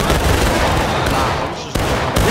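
A musket volley fired by a line of soldiers in the video game War of Rights: a loud, dense roar of overlapping shots that fills the clip, with a brief dip before the blast resumes.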